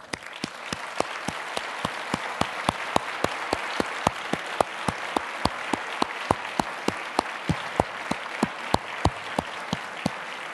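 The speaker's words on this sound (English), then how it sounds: "let's applaud both Bruce and Paul Glenn" An audience at a campaign launch event applauds Bruce and Paul Glenn, with sustained clapping throughout and sharp, evenly spaced claps standing out above the crowd.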